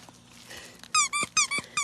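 A squeaky alien-shaped plush dog toy is chewed, giving a burst of five or six sharp, high squeaks in quick uneven succession after a quieter moment of soft rustling.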